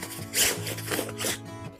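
A backpack zipper is drawn closed in a few quick, rasping pulls, close and fairly loud against a quiet room.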